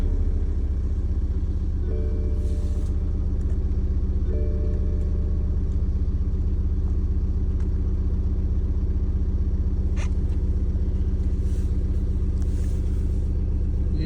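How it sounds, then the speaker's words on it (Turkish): A car engine idles steadily after starting, a low continuous rumble holding constant throughout with no voices, recorded close by during a battery test with a handheld tester. "Çalıştıralım motoru."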